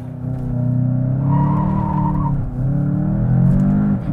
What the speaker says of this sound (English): Okay, so lots of tire squealing.